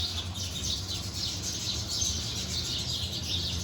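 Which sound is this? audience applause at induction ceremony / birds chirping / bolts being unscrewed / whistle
birds chirping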